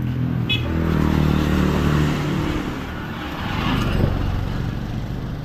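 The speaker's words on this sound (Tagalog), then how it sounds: "Traffic." Road traffic rumbles close by, with car and motorcycle engines droning and swelling as vehicles pass one after another in a continuous, fairly loud wash of noise.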